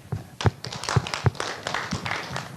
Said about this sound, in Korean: 박수 좀 합시다.